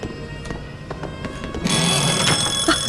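A telephone rings out during a scene in The Last Shift, a horror game set in an eerie clown-haunted amusement park, coming in loud and steady partway through over faint ambient game noise.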